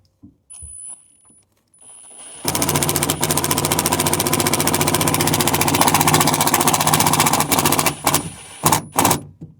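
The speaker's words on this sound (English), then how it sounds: "with the drill, they go right back in" Power drill driving screws back into a Tesla Cybertruck rearview mirror: a steady, loud buzzing whir runs for about six seconds after a few short starts, then stops with brief clicks at the end.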